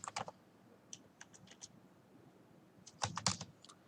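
Python code is typed on a computer keyboard in short, separate bursts of crisp key clicks: a cluster at the start, a few sparse taps in the middle and a louder flurry near the end, with quiet gaps between.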